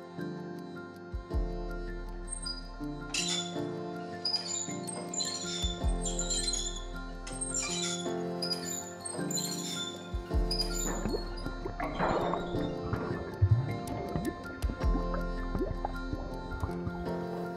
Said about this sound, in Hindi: तो जेरेमी, क्या आप हमारे लिए कुएं से पानी निकाल सकते हैं?